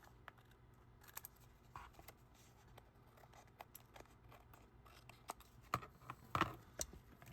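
Quiet snips and crisp paper clicks as excess cardstock is trimmed off a handmade fish card, in scattered irregular cuts with one busier cluster near the end.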